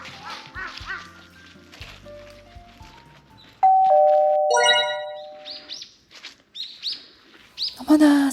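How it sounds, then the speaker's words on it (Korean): Birds sing in a forest on Chungnyeongsan mountain in Korea, giving clear whistled notes and chirps, some near and loud, with a voice speaking briefly between the calls. "새소리가 너무 예쁘게 들리네요."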